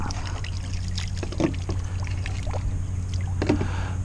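A ZippKits R4 4S outrigger RC boat runs on water with a steady, continuous motor drone throughout, a few brief splashy bursts rising over the hum.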